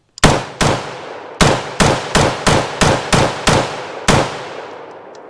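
A T91 piston AR rifle firing Phoenix ammo fires about ten loud, close, sharp shots at an uneven pace, one at a time, each cracking report decaying before the next.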